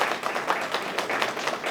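An audience at a racial justice essay and creative arts awards ceremony applauds a recipient, a steady, moderately distant patter of many hands clapping without pause for the whole stretch.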